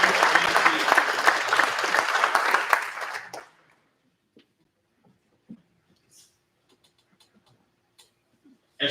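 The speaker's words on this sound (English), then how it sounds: "So round of applause to the families." Banquet audience at a Mid-West Drag Racing Series event applauds the racers' families, a dense burst of clapping lasting about three seconds before cutting off into near silence with a few faint ticks.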